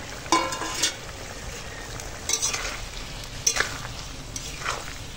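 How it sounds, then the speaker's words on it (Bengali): A pan of curry gravy with pointed gourd fritters bubbles and sizzles steadily, with a few sharp spoon scrapes against the metal and no voices. "তো দেখো এখন ঝোল ফুটছে"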